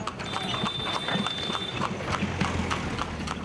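Horse-drawn tamtam cart on a road in Bihar, with steady hoof clip-clops in an even, brisk rhythm, close up, over a rattle of the cart and a faint background noise of traffic.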